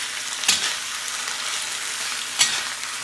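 Canned corned beef hash fries steadily in a cast iron pan, a continuous close sizzle broken by two brief louder scraping stirs.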